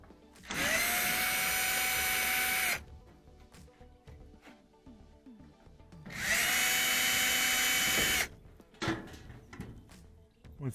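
Power drill backing screws out of the front panel of a Frigidaire dryer, two loud whining bursts of a couple of seconds each, with clattering handling sounds between and after.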